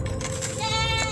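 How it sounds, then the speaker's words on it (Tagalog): Goats kept under a raised house bleat briefly and fairly clearly over a noisy, crowded background, with a short wavering call standing out near the end. "Hindi naman natakot yung mga kambing."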